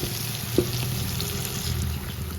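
Cooked chickpeas with their water sloshing into a pan with a low frying sizzle underneath, one soft splash near the start, continuous and close.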